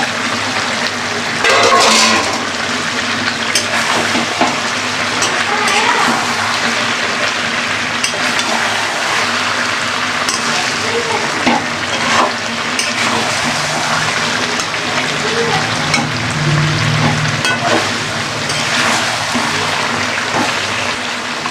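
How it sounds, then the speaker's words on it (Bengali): Potatoes and chicken fry together for a chicken biryani, giving a steady sizzle with scraping stirs and occasional clatters in the pan throughout. "এবার আলুটা দিয়ে আর একটু কষিয়ে নেব।"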